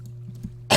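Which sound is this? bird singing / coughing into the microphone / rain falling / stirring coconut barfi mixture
coughing into the microphone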